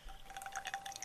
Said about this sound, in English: That's what a delicious pour over sounds like